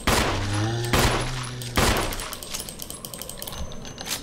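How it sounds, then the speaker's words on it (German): Three loud gunshots ring out in Resident Evil as a zombie is fired on, each blast sharp and spaced about a second apart, followed by a lighter ticking, mechanical clatter under a steady game ambience. "Ein bisschen Munition verballern."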